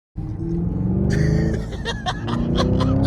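A Camaro SS 1LE with a manual gearbox pulls hard at full throttle, a loud sustained engine roar climbing steadily close by, with laughter and excited voices over it.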